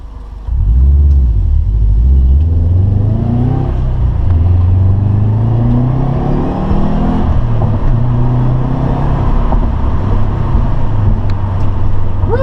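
A Subaru WRX with an Invidia Q300 catback exhaust idles, then revs hard and holds a loud, deep, rumbling drone with rising and falling engine pitch, heard up close and steady throughout.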